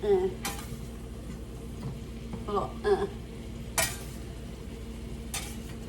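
Salmon and scallops frying in a pan, a soft steady sizzle running throughout beneath a few sharp clinks and scrapes of utensils against the pan, with faint voices heard low in the background.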